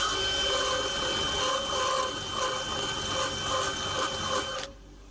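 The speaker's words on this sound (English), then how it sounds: "spin the drill at the same time, obviously once the motor is running, to grind that down so it'll work" Drill motor spinning steadily to grind down a modified tool during timing chain work on a Mercedes W212, a continuous whirring hum with faint rhythmic pulsing that cuts off near the end.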